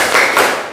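A classroom's rhythmic 'tepuk semangat' clapping ice-breaker, a quick loud pattern of a few sharp group claps, close and brief.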